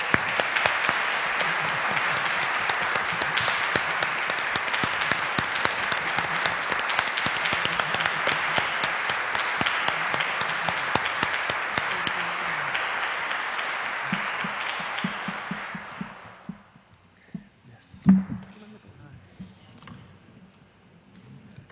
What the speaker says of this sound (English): a round of applause for the panelists.